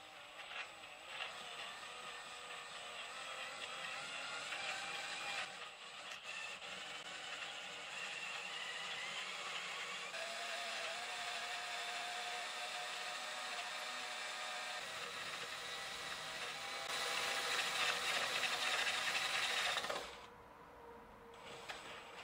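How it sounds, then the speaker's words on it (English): A power drill bores the output jack hole in a custom bass guitar body, a continuous mechanical whir and grind lasting about twenty seconds, growing louder toward the end before cutting off, with no talking. "Then I drill for the output jack."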